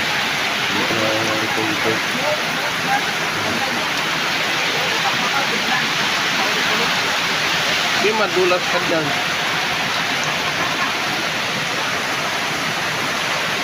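Heavy rain pours down amid rising floodwater, a loud, dense, unbroken hiss of falling water and rushing flow throughout, with people briefly talking over it.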